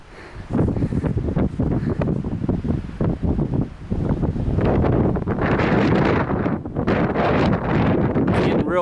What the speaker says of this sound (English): Getting real windy already.